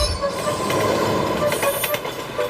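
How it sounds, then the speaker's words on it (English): A train passing, used as a radio show sound effect, a steady continuous rumble of rolling wagons with faint wheel squeal, loud and unbroken throughout. "I can hear a train,"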